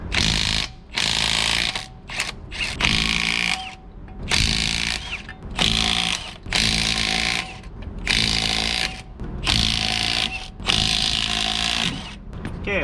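Lug nuts come off a fifth wheel RV wheel under a power tool, its loud ratcheting bursts repeating in a steady series of long whirring pulses separated by brief pauses, with no talk.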